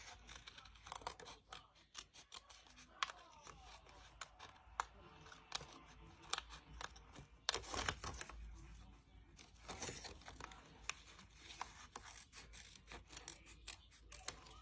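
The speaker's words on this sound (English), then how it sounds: "Using my trusted curved scissors." Curved scissors snip through paper in quick, irregular crisp cuts, close and fairly quiet, with rustling between snips.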